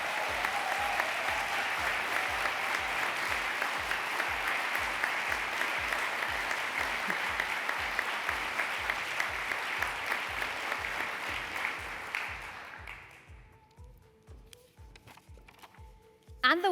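An audience at a university research and innovation awards ceremony applauds loudly and steadily, a dense wash of clapping that fades out toward the end, leaving quiet room noise.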